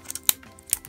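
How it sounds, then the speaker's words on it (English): Scissors make two or three quick, crisp snips, cutting open a plastic blind bag package close up in an otherwise quiet room. "We're just gonna cut it open."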